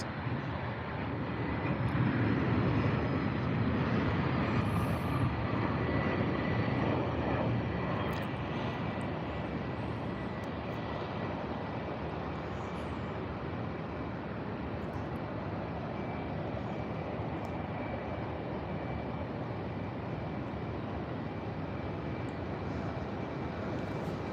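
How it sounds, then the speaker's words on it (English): A Boeing 737 jet at Tampa International Airport gives a steady, moderately distant roar that swells early on and then holds as a broad, even rush of engine noise. "Oh no, this is I think a Boeing 737."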